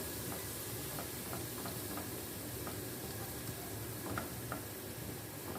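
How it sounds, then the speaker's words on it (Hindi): Flour roasting in hot ghee in a pan gives a faint, steady hiss with soft ticking crackles throughout. "अब हम इसे गोल्डन होने तक इसको भूनेंगे अपने ऑयल में अच्छे से।"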